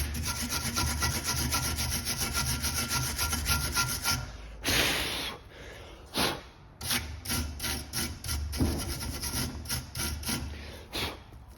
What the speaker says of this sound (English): So we can do this with a wire brush.